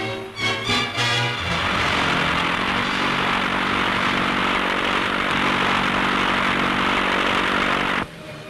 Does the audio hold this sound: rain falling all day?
no